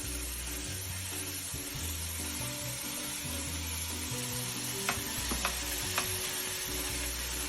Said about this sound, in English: Hear that sizzling? That's a good sign.